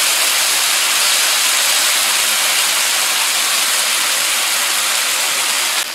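Frozen potatoes sizzle on a Blackstone E-Series 22-inch electric tabletop griddle, giving a steady, loud, broadband hiss that runs unbroken for six seconds, with no talking over it.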